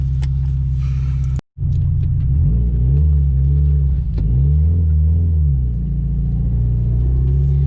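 A car engine drives close by, a steady low rumble that holds through a short gap, then rises and falls in pitch as it revs and shifts.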